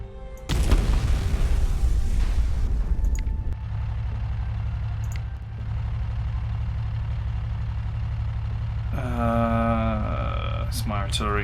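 Artillery in the Shattered Union strategy game lets off a heavy boom near the start, followed by a low rumbling engine-like drone that continues; someone speaks over it toward the end.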